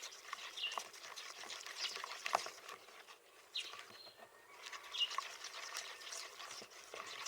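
A homemade soap mixture being stirred in a bowl before going into the mould, a faint, continuous wet swishing and scraping with small patters, close but quiet.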